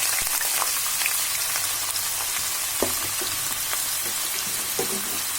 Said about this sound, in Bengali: পেঁয়াজটাকে কিছু সময় ভাজি করব যাতে কিছুটা লাল হয়ে যায়